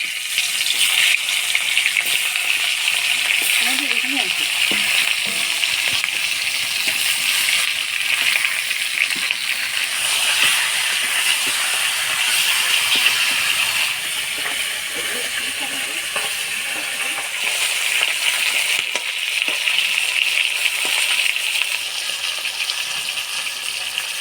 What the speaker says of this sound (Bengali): এবার এই কড়াইয়ের মধ্যে আরেকটু তেল দিয়ে মাছের মাথাগুলো ভাজি নিব